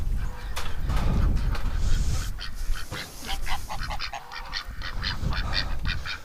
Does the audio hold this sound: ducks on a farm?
yes